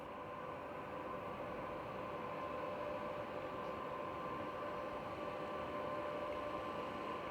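A locomotive-hauled train departs London Euston on the 18:22 service to Northampton, giving a steady, continuous rumble with a sustained mechanical hum that holds an even loudness throughout.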